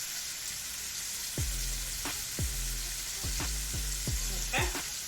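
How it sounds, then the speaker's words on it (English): Stuffed pork chops sear in a hot pan with a steady sizzle, broken by a run of sharp clicks and clanks as utensils knock against the pan. "When we're searing like this, guys, you really want to make sure that you don't turn this meat"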